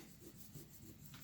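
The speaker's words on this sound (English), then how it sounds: "and eliminate my pencil marks." An eraser rubbing out pencil marks on a paper drawing, a soft, quick back-and-forth scrubbing in short repeated strokes, close and very quiet.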